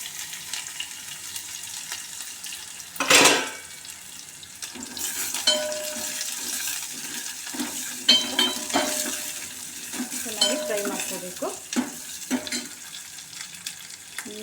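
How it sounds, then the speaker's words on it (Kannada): Mustard seeds and onions hit hot oil in a pan for a small-jackfruit sambar, giving a steady close sizzle and crackle with a sharp burst early on and occasional utensil scrapes and clinks while stirring. "ಇವಾಗ ಎಣ್ಣೆ ಕಾಯ್ದಿದೆ ಸಾಸಿವೆ ಹಾಕೋತಾ ಇದ್ದೀನಿ ಸಾಸಿವೆ ಹಾಕೋದ್ಮೇಲೆ ಈರುಳ್ಳಿ ಹಾಕೋತಾ ಇದ್ದೀನಿ"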